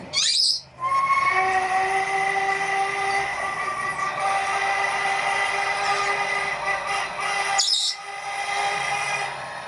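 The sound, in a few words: model train sound decoder playing train sounds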